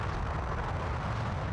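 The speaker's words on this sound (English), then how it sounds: "That's a really impressive explosion for a disc." An explosion from a disc weapon in Colony Wars Vengeance makes a steady, dense rumbling roar that fills the whole moment at moderate loudness without a clear attack or fade, and there is no speech.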